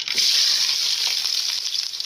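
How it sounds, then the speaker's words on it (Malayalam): Onions dropped into hot coconut oil with spluttering mustard seeds, a loud, close, continuous hiss and sizzle with faint stirring clicks. "അപ്പോൾ കടുക് പൊട്ടി അതിലേക്ക് നമ്മൾ സവോള ഇടാം."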